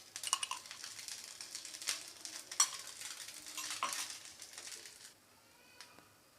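Maggi noodles frying in a little oil on a tawa make a faint, uneven crackling sizzle with scraping stirs and soft clicks, dropping quieter toward the end.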